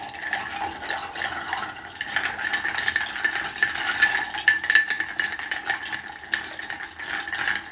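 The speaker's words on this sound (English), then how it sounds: "Now what we're gonna do is we're gonna give this a stir." A spoon stirs a chilled fortified wine cocktail in a glass, giving a steady run of light clinking and rattling against the glass and ice, close and moderately loud, with no voices.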